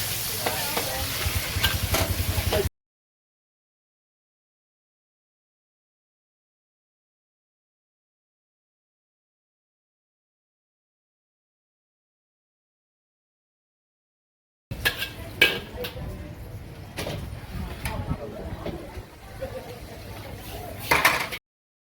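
Fresh chillies stir-fried in a pan at a street-food stall in Phuket, with sizzling and scraping at the start, then a long silence, then busier frying and clatter returning near the end with some voices in the background.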